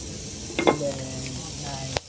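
Cabbage sizzles in a hot pan as it is grilled, a steady hiss with a few clattering stirs and scrapes of the utensil.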